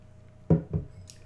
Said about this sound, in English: Alright, grab a drink of water.